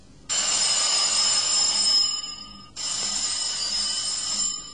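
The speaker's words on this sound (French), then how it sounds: "Le téléphone sonne." An old-style telephone bell ringing in two long, loud, bright bursts of about two seconds each, separated by a short gap, alone without voices.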